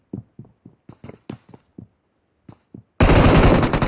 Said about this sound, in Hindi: ये पता नहीं किस पे फायर कर रहे थे या फिर मेरे पे ही कर रहे थे